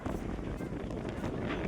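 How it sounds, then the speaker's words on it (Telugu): Strong sea wind buffets the microphone at the coast near Vivekananda Rock Memorial, Kanyakumari, a dense, continuous roar of rumbling wind noise with no pauses. "ఓ గాలి ఫుల్ వస్తుంది."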